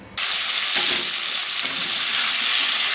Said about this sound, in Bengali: এবারে কড়াইটা বসে আলুটা ভেজে নেব।